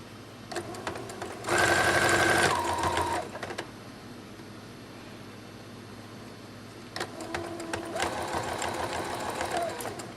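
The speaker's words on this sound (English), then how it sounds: "I put my machine in reverse, and I go forward again, locking that seam in place." Sewing machine stitching the seam of a ruffled sock, a close, steady mechanical whir in two bursts, a short loud run near the start and a longer one toward the end, with a quiet pause between.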